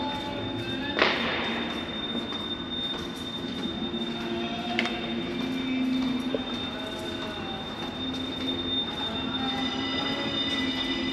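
Train passing through the active Amtrak station at the Marshall depot in Texas, a steady rumble of rail cars with wheel squeal and a sharp metallic clank near the start, heard alone without voices.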